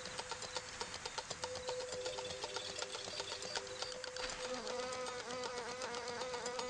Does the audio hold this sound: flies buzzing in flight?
yes